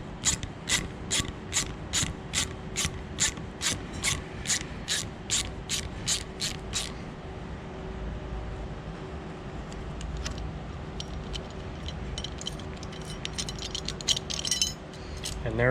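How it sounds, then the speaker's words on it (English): A valve spring compressor tool on a Ford 289 V8 with heads on ratchets in a rapid even run of sharp clicks, then gives way to quieter scattered metallic clinks and handling noises. "Now kind of keep them in place as you release the tension on the tool."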